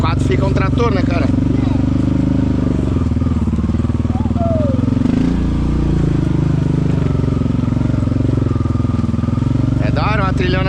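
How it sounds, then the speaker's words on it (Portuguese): A quad bike engine in four-wheel drive on a wet, muddy forest trail in heavy rain, droning steadily and close throughout, with brief talk at the start and end. "Esse quadzão na 4x4 fica um trator"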